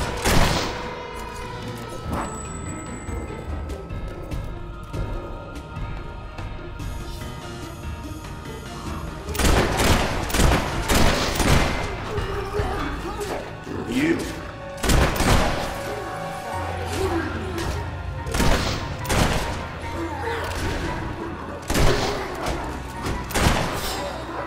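Rapid, loud bursts of gunfire in Fable 3 as soldiers are shot. Sharp cracks and thuds arrive in irregular volleys over a steady battle din, with heavier clusters partway through and near the end.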